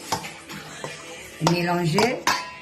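Chives and bell pepper are stirred in a metal pot for pork liboke, giving close clanks and knocks of a spoon against the pot and a ringing scrape in the middle of the clip.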